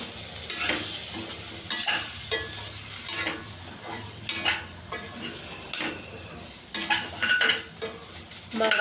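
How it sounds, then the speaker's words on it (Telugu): Chili powder, turmeric and coriander powder scraped and stirred slowly in a frying pan on low heat, a steady soft sizzle broken by repeated spoon scrapes at an unhurried rhythm, close and alone. "మాడకుండా సిమ్లో పెట్టుకొని నెమ్మదిగా తిప్పుకోవాలండి"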